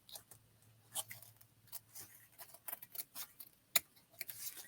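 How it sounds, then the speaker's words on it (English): Quiet, sparse snips of scissors cutting through fabric, a few sharp clicks spaced irregularly against a near-silent background. "So we're going to just give it a snip."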